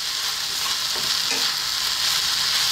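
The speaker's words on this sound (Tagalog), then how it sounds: "Again, haluin lang natin." Pork sausage fried rice is stir-fried in a hot pan, a steady continuous sizzle with faint scraping of the stirring utensil, no voices.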